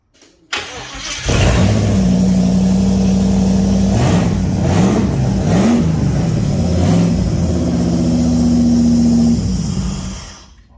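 Holden VK Commodore Brock tribute cranks briefly and fires up, then settles into a loud, close idle with several sharp revs before the engine cuts off, with no voices.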